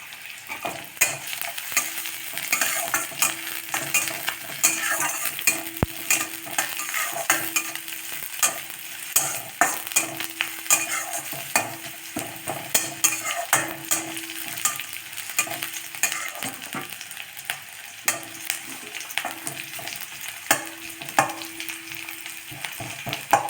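Onion and garlic sauté in oil in a pan for a balloon vine soup, a continuous close sizzle broken by frequent rhythmic scrapes and taps of a stirring spoon.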